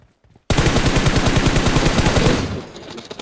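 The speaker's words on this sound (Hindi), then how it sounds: "ये देखो उधर तो फिर फायरिंग आ रही है" Loud, sustained automatic gunfire from PUBG Mobile, a rapid continuous stream of close shots lasting about two seconds before cutting off into fading echo.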